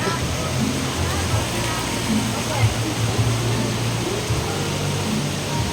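Steady rushing river water fills the scene at a hot spring resort, a constant broad wash of flow with a low murmur underneath and no clear voices.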